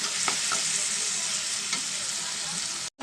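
Chilli powder and spices are stirred into fish curry masala frying in a pan. A loud, steady sizzle runs throughout, with a few scraping strokes of the spoon, close up, before a brief cut to silence near the end.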